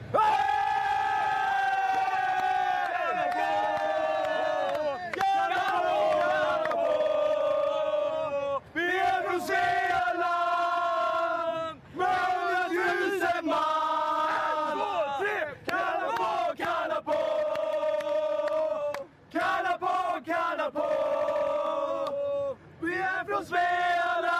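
A crowd of Sweden football fans shouts and chants in loud, sustained, tonal bursts of many voices together, repeating in waves with brief pauses between rounds.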